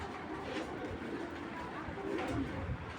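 A female racing pigeon coos softly with low, repeated rolling calls, heard fairly close amid faint background noise.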